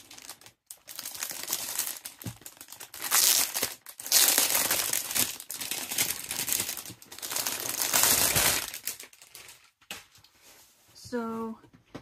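Plastic and card packaging of a Castle Arts 120-piece soft touch coloured pencil set crinkles and rustles in bursts as it is opened, with a few louder crumpling moments and a brief voice near the end.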